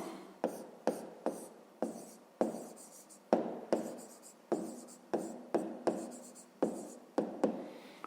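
A pen writes numbers on paper in short, regular scratchy strokes, about a dozen close strokes that each fade quickly, with no talk over them.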